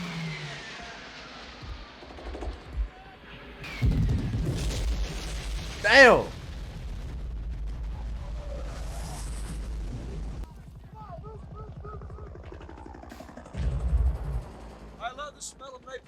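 Napalm strike from the 1979 war film Apocalypse Now, with a heavy booming explosion swelling midway among rumbling blasts, gunfire and engine noise, loud and sustained, and a voice exclaiming over it.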